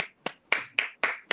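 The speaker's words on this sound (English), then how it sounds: "That does deserve a clap." Five quick, sharp claps spaced about a quarter second apart, close and clear with no talk over them.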